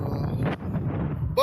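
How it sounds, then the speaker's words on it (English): Heavy wind buffeting a microphone while riding a motorcycle on a long highway road trip, a constant loud low rumble that fills the whole short moment. "A lot of wind."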